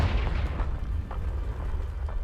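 A Confringo spell explosion in Hogwarts Legacy gives a deep rumbling blast with crackling bursts, loud and close, and its low rumble sustains throughout without speech.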